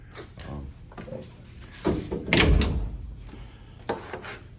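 A steel door on a Model A hot rod, built on a 1927 chassis channeled four inches with power windows and latches fitted, swings shut with a single solid thunk midway through, close by in a quiet garage.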